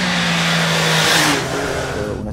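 An MV Agusta crossover motorcycle engine revs loud and close, a steady low drone rising into a brief higher-pitched rev before settling again, with no talking over it.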